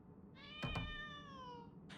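A single drawn-out cat meow from behind a painting inside a palace in the video game Genshin Impact, clear and tonal, sliding downward over about a second, with a couple of short clicks around it and no talk.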